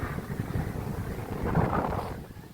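Wind blows hard at Suryalanka beach, a rough, low roar buffeting the microphone and swelling louder midway before easing slightly, with no one speaking.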